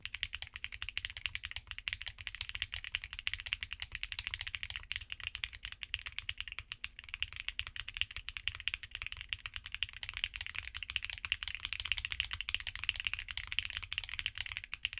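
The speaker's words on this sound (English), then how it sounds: "Here are the sound tests for all of them." Akko mechanical keyboard switches typed on steadily, a dense stream of crisp, close clacks and taps in quick continuous rhythm, with no talking.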